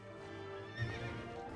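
A horse in the video game World of Warcraft gives a drawn-out whinny with a faint clip-clop of hooves, fairly close and alone.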